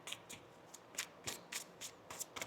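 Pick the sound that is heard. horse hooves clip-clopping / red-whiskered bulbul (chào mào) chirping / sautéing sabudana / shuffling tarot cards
shuffling tarot cards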